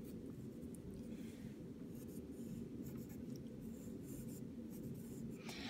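A pencil drawing lines on paper while sketching a wooden drawing manikin, soft scratchy strokes repeating close and quiet, heard on their own.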